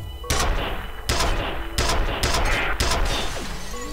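Penetrator nail-gun firing in the shooter game F.E.A.R., a series of five loud sharp bursts at roughly even intervals, each with a short ringing tail, no talking.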